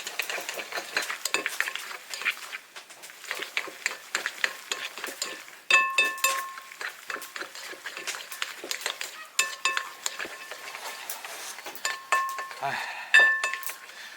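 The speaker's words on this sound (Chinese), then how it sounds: "顺时针搅拌，搅拌上筋" Fish paste made from a reservoir-caught black carp is stirred clockwise with salt and egg white, giving a steady run of close clinking and scraping strokes against a bowl for the whole stretch.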